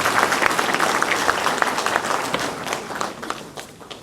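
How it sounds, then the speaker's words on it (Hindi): Applause from a large gathered audience welcoming a chief guest at a university parent–teacher meet, dense sustained clapping filling the hall for about four seconds and thinning slightly toward the end. "देवी सज्जनों, जोरदार तालियों से हमारे मुख्य अतिथि महोदय का स्वागत करें"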